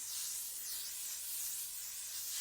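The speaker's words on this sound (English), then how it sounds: "Going in with the L'Oreal Paris 3-second setting mist." L'Oreal Paris 3-second setting mist sprays onto a made-up face in a close, continuous airy hiss that holds steady, alone and without talk.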